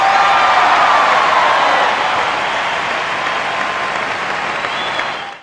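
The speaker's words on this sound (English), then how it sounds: "A round of applause for today's guest!" A loud, dense wave of crowd applause with scattered cheers, holding steady and then cutting off sharply at the end.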